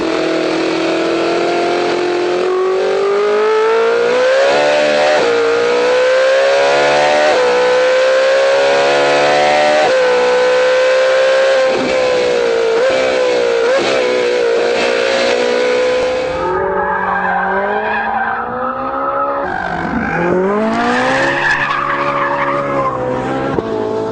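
Ferrari 458 Italia V8 driven hard, loud and close, revving up through the gears in long rising sweeps with brief lifts and tyre noise, then dropping back and surging again near the end.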